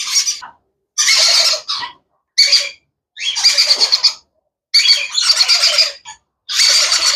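Pineapple conure parrot giving a run of loud, harsh squawks in repeated bursts with short pauses between, close by and with no talking over it.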